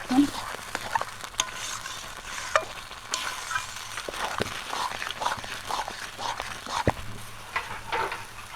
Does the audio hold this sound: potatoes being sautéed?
yes